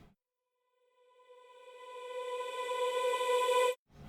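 A reversed reverb tail taken from the start of a sung vocal verse swells from silence into a rising, tonal wash that grows louder and brighter before cutting off abruptly.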